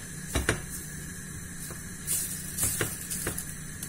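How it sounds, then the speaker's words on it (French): Nearly 80 grams of butter melting in a pan, a low sizzling hiss broken by a few brief scrapes and soft taps, close and fairly quiet, no talking. "je vais attendre que mon beurre soit tout fondu."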